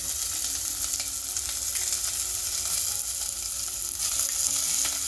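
Onions and garlic fry in hot oil with a loud, steady sizzle and crackle, and faint stirring scrapes run through the sound close up without any speech.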